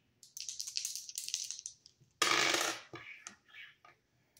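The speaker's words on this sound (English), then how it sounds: "rolling the dice to see what I need to shuffle a deck to" Dice rattle and tumble across a hard surface at close range, a scattered clatter followed by a louder burst of rolling and a few final settling clicks.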